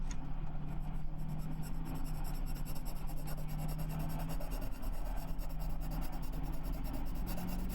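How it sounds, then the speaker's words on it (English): A pencil scratches continuously across paper in a close, steady rasping drawing sound with no pauses and no voices. "Oh, she's drawing. Okay, I thought it was like sawing at first."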